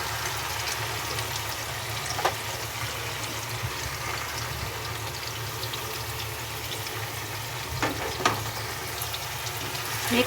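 Chicken masala frying in a pan with ginger garlic paste, a steady close sizzle and hiss running throughout with occasional soft scrapes and clinks from stirring.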